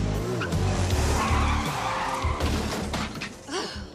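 Car speeding up and crashing into a parked car in a TV episode, a loud engine roar with tire screech, then a thudding impact and crunching debris, all mixed with dramatic scene audio.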